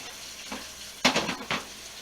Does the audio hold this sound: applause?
no